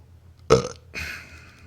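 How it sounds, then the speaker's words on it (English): A single loud burp erupts abruptly, followed by a shorter rasping tail, close and clear in an otherwise quiet room. "For a free burp?"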